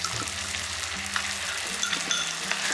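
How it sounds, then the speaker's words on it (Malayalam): Ground coconut paste, chili powder and turmeric sauté in a pan for an ivy gourd curry, giving a steady close sizzle broken by repeated scraping stir strokes, with no talk. "ഇതും നന്നായിട്ട് വഴറ്റുക"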